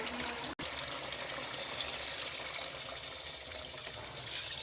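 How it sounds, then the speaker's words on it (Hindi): Water poured into a pot of aloo gosht mutton curry on the stove, a steady close splashing pour that runs continuously for several seconds with no talk. "पानी ऐड करेंगे।"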